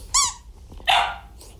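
An F1BB mini golden doodle named Prince gives two sharp, close, high-pitched yips about a second apart, followed by a fainter third one.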